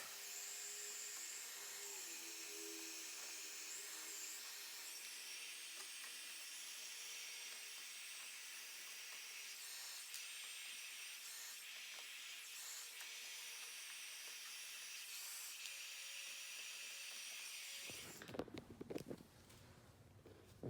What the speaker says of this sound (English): just a basic embossing tool is what I use instead of a heat gun